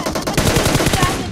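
A rapid burst of automatic gunfire in the video game PUBG Mobile on the Livik map, loud and close, a quick string of shots lasting about a second.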